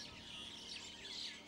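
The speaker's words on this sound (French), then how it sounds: "C'est ici le domaine des oiseaux, dont le nodi, le sterne et la frégate." Seabirds on Île Coco, Mauritius, a nature reserve where noddies, terns and frigatebirds live, give faint squawking calls that overlap steadily in the distance.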